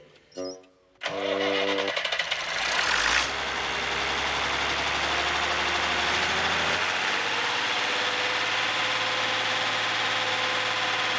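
A tractor engine that once smoked heavily cranks briefly, catches and then settles into a loud, steady idle, its low rumble holding evenly close by for the rest of the stretch without any talk.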